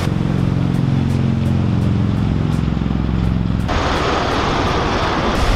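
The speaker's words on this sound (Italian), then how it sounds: "Guardate che elicottero sta passando." A helicopter passes overhead near a beach, a loud steady engine roar with a regular rhythmic blade chop throughout, the tone shifting abruptly partway through as it goes by.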